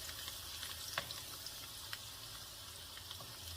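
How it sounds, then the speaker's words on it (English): Garlic prawns fry in hot oil in a pan, giving a steady, faint sizzle with a few light crackles and pops and no voices. "So just a little bit of frying."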